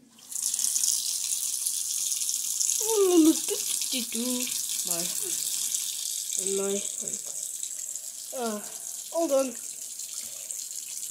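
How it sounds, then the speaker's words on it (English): Steady tap water running into a sink in a horror video game, a continuous hiss under a voice speaking short phrases. "Make sure I wash my hands."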